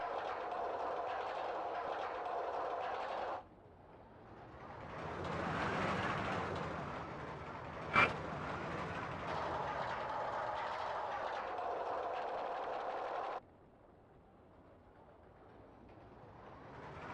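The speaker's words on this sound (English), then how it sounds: "let's hop on a train and test it out" Roller coaster train ride in Rollercoaster Tycoon, a steady rolling rumble that drops away, swells again with one sharp clack in the middle, then cuts out to a quieter hum.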